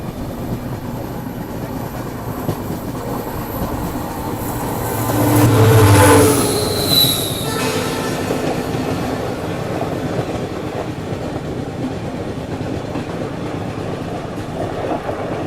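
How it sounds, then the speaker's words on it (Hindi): A passenger train rumbles past near Lumding railway station, swelling to a loud peak midway with a brief horn-like tone, then fading back into steady rail noise. "और ये कोई पैसेंजर ट्रेन लग रही है मुझे"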